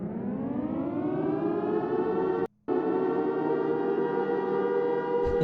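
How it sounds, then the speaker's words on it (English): A civil defense air raid siren wails loud and sustained, its steady tone cut by a brief silent gap midway before resuming just as strongly. "1 hour air raid siren."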